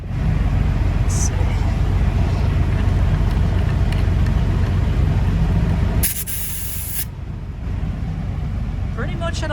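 Halo tire inflator system on a truck tire gives a steady loud hissing rush of air, with a brief sharper burst near the end.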